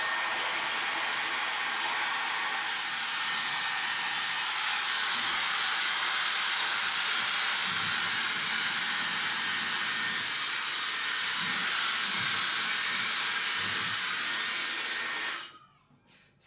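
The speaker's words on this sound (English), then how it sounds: "If I just put the cold air on now." A handheld hair dryer blows steadily on its cool air setting during a blow-dry, a loud continuous broadband whoosh with no talk, cutting off abruptly near the end.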